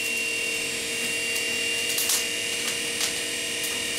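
A forge fire's blower runs at its lowest setting during forge welding of bicycle parts for a Damascus bearded axe, giving a steady, even broadband whoosh and hum with a few faint clicks, with no talk.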